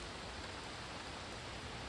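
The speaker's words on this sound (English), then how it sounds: "It's raining." Rain pouring on a Saturday morning in Canada, a dense, steady hiss of falling water that stays even and continuous throughout, with no voices.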